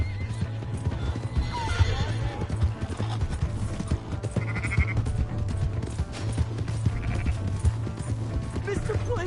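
A horse in the Red Dead Redemption 2 video game whinnies and neighs while hooves clip-clop steadily close by, over a low droning hum with faint game sounds in the background.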